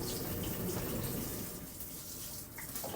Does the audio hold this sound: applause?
no